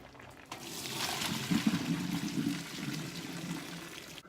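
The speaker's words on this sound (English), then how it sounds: "I'm going to drain my pasta" Cooked pasta water being drained for garlic shrimp pasta, a soft, steady pour and gurgle lasting a few seconds, fairly faint and with no talk.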